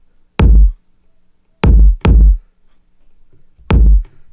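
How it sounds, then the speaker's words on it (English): Four short electronic kick drum hits drenched in reverb, spaced unevenly with two close together, each a loud punchy thump with a brief washy tail, alone with no talk. "that's just like a little short kick with a lot of reverb on it"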